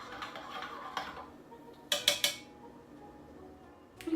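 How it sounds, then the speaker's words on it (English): Butterbeer mixture is stirred in a pot, with a soft scraping start followed by a quick burst of three bright spoon-on-metal clinks and another clink at the end. "Kind of stir it around."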